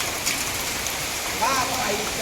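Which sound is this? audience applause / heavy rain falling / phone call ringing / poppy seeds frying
heavy rain falling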